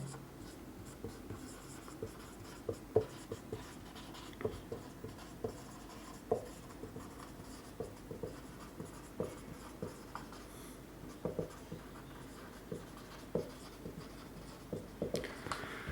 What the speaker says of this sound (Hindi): मैं लिख देता हूं यहां पे